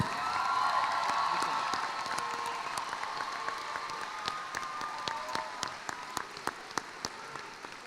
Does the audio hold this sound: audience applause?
yes